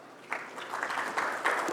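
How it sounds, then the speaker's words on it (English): A conference audience begins applauding for a speaker. The clapping builds from a few scattered claps into fuller, moderately loud applause that lasts throughout. "please give a big round of applause"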